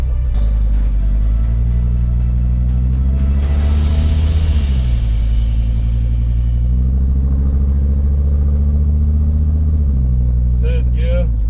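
Inside a Jeep Grand Cherokee WJ 2.7 CRD diesel running in limp mode, the engine drones loud and low, its pitch rising then dropping at gear changes, with a brief voice near the end.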